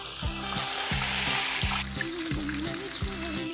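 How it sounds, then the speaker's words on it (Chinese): Pork belly deep-frying a second time in 200-degree oil, a soft continuous sizzle and bubbling, heard close under a repeating rhythmic background beat, with no talk. "200度油温了，再把扣肉放下去炸。"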